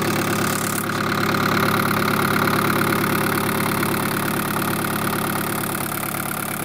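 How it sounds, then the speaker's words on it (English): Daihatsu turbo diesel engine idling steadily and close by after injector pump tuning, a continuous loud rumble with an even knocking rhythm throughout and no talking. "Now we just need to adjust the idle to bring it back down."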